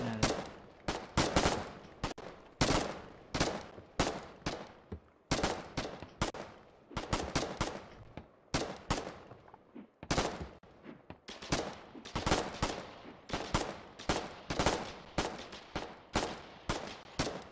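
Rapid, irregular bursts of gunfire crack through a battle in the war game Foxhole, with overlapping shots from several weapons going on steadily and at moderate distance.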